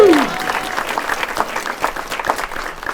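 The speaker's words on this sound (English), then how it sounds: "Give her a round of applause either way." An audience at a small business week closing ceremony claps for a young entrepreneur, lively sustained applause after a brief vocal whoop at the start.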